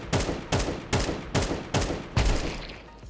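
Six evenly spaced gunshots from a weapon in Counter-Strike 2, one per click, crack out at a steady rhythm, close and punchy, with a brief decaying tail after the last shot and no voices.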